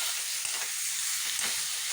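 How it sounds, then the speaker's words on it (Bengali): Water poured onto spices frying in a pan: a loud, continuous hissing sizzle fills the short moment, up close and alone. "এখন জল দিয়ে দেবো।"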